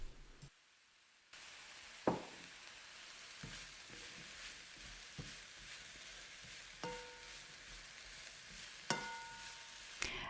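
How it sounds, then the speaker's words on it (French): Mushrooms with parsley simmer in a pan over medium heat, giving a faint, continuous sizzle with occasional soft knocks of a utensil against the pan. "je vais faire revenir le tout à feu moyen, à peu près 20 minutes. On va laisser mijoter tranquillement."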